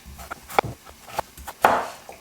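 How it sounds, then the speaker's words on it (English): Knife chopping potatoes on a board: several irregular crisp chops, close and moderately loud, alone with no talking. "I'm chopping the potatoes into slightly smaller size than aubergine"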